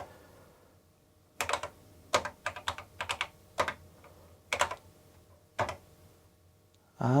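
Typing on the keyboard of a C64 Ultimate computer: irregular bursts of crisp key clicks, close and clear in a quiet room, with short pauses between clusters.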